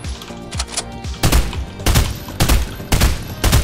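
Bursts of gunfire in the video game Fortnite, several loud volleys of rapid shots in a broken rhythm, with quieter scattered shots and game sounds between them.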